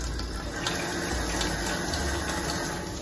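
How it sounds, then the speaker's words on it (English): Tap water runs steadily over a makeup brush cleaning mat in a sink, a constant close splashing rush with no break throughout. "So I'm gonna go ahead and rinse it off"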